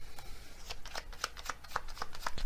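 Tarot cards being shuffled by hand, a quick run of crisp riffling slaps and flicks in an irregular rhythm, close and fairly soft over faint room noise.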